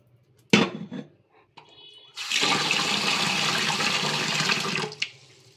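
Washed rice semolina has its water poured off from a pot. A few clattering knocks come first, then a steady, close gush of draining water runs for about three seconds and tapers off. No one speaks.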